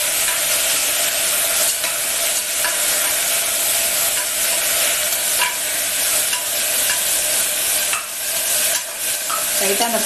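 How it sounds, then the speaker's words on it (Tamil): Manathakkali (black nightshade) greens sauté in a hot pan with a steady, loud sizzle and frying crackle, and a utensil stirs and scrapes now and then. "லைட்டாக அந்த பச்சை வாசம் போகிற அளவு வதக்கினா போதும்."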